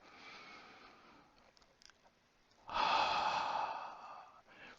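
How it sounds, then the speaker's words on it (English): Slow breathing during a restorative mat exercise: a soft, quiet inhale, then a fuller, louder sighing exhale that lasts over a second before fading, close to the listener. "2 more deep breaths."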